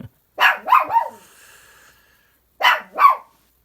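A dog barking indoors: two quick barks, a short pause, then two more sharp barks, close and loud with nothing else in between.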